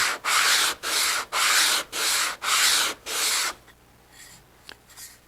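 Stacked wooden segments for segmented woodturning are sanded flat with seven brisk, even rasping strokes in steady rhythm, followed by quiet handling noises.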